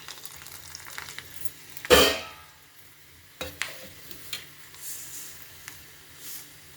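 Urad dal being tempered in hot oil gives a sharp burst of sizzling as it drops into the pan, followed by softer crackles and scattered spits of frying.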